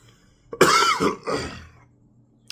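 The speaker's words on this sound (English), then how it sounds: "just woke up with a coughing spell." A single person coughs twice up close, a harsh rasping hack followed by a shorter one, then quiet.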